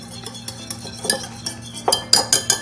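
Pad See Ew sauce of soy, fish sauce and hoisin being mixed in a small bowl, quick close clinks and taps of a utensil against the dish speeding up into a brisk burst of stirring.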